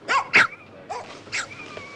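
Several small dogs yap and bark in short, sharp bursts, close by and fairly loud, with brief pauses between the barks.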